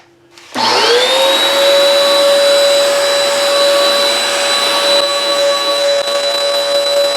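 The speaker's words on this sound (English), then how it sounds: "we have to take the opportunity to vacuum the carpets" A vacuum cleaner switches on with a rising whine and runs loudly and steadily on car carpets, its high-pitched motor tone holding constant, no voices.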